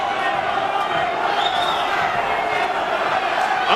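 A boxing arena crowd roars steadily during a heavyweight bout between Andrew Golota and Orlin Norris, a loud, continuous wash of cheering and shouts with a commentator talking over it.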